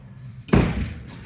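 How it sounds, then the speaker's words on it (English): Lift doors in a shopping centre slide shut and meet with a single close thud, followed by a brief low rumble. "Just gonna wait for the doors to close."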